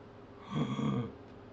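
A voice imitates a water spirit gasping: a single short, rough, breathy inhale-like rasp lasting under a second, close and moderately loud, alone with no words.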